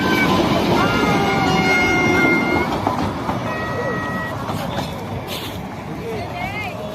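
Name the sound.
train passing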